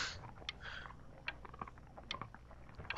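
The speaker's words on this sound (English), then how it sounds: "It's coyote eating the cats." In the video game Before Your Eyes, a coyote eats with faint, crunchy chewing and biting, a run of small irregular crunches heard quietly and close, with no talk over it.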